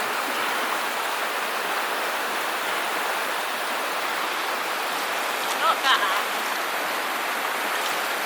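Water rushing along Big River on the Australian Alps Walking Track, a steady broadband wash of flowing water heard up close, continuous and even, with a brief faint chirp or click near the end.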